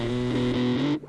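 A thick, heavily distorted electric guitar chord through a Princeton Reverb amp rings out loud and sustained for about a second before cutting off.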